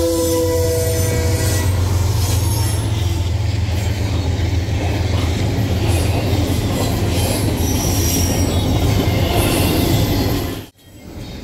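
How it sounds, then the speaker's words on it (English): A Norfolk Southern intermodal freight train with a Maine Central C40-8 locomotive passes close by, a loud continuous roar of wheels and railcars with squealing flanges, a horn at the start and rhythmic clatter, then a sudden drop as it recedes. "This is Norfolk Southern Train 264, a daily intermodal from Chicago, Illinois' 43rd Street Yard to AR, Massachusetts."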